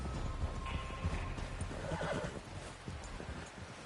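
Horse neighing and whinnying in Red Dead Redemption 2, with clip-clop hoofbeats running throughout at a steady pace over an outdoor ambience, fairly close and clear, with no talk.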